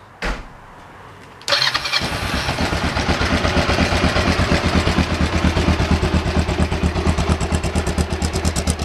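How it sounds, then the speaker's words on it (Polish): A Kawasaki KLE 500 motorcycle engine cranks briefly, catches loudly and settles into a steady, even, throbbing idle close by, with no voices. "Teraz zapalę motorek."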